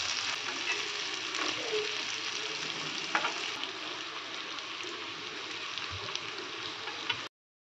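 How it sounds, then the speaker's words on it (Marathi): Yam (suran) slices sizzle steadily in hot oil in a pan, a dense continuous frying hiss with occasional small pops, close and fairly even from start to finish. "असे मस्त दोन्ही बाजूने आपल्याला छान फ्राय करून घ्यायचे आहेत"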